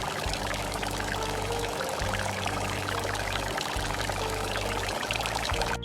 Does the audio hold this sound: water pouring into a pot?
yes